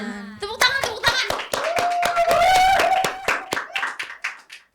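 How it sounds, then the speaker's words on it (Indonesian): A studio audience at a talk show claps in quick bursts, the sharp hand slaps mixed with excited voices and a sustained cheer, lasting a few seconds before tapering off. "Tepuk tangan, tepuk tangan."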